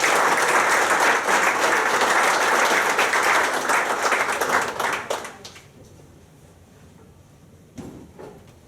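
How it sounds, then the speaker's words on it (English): A room of people at a city council meeting applauds loudly and steadily for about five seconds, then the clapping fades into quiet room tone with a couple of faint knocks. "Give them a round of applause."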